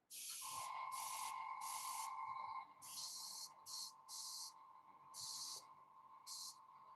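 An airbrush with a larger needle and nozzle sprays chrome paint in a close, steady hiss that starts as one long burst and then breaks into several shorter bursts with brief gaps between them.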